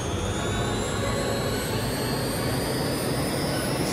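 Harrier jet engine switched into jet mode in the video game Eagle One: Harrier Attack, a steady, loud, dense roar with rising high whines that holds unbroken throughout.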